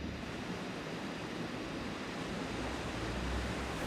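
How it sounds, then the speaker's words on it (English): Continuous soft wash of ocean waves played as a tinnitus relief sound through hearing aids, a gentle broadband surf sound with no voices, steady and fairly quiet throughout. "We'll try sea wave."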